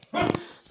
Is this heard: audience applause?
no